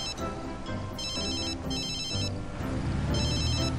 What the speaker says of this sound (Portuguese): Não, não atende o telefone agora não,